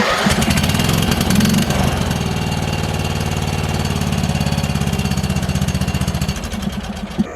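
A Toro Wheel Horse riding lawnmower engine, just fitted with a new spark plug, starts and runs close by with an uneven, knocking chug that steadies into a rough idle, no talking.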